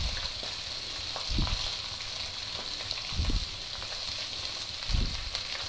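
Onions browning lightly in oil in a pan for white chicken karahi give a steady low sizzle. Three soft stirring bursts come at even intervals.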